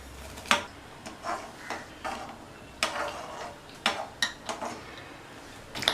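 Semolina is stirred into boiling water in a pot for tomato upma, with a series of sharp metallic scrapes and taps of a spoon against the pot over a quiet background, no voices.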